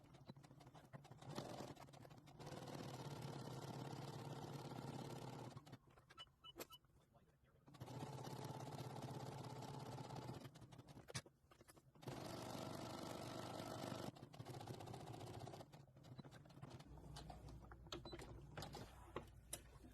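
A sewing machine stitches a seam on a fabric tarot card case, running in three steady, sustained bursts separated by brief stops, with a voice speaking over the machine.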